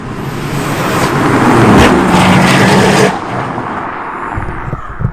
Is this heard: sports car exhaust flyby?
yes